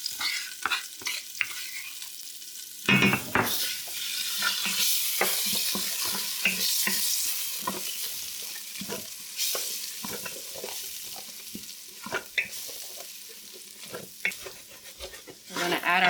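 Minced garlic sizzles steadily in a hot pan while a utensil stirs and scrapes it in repeated bursts, close and fairly quiet, with brief clatters at the start.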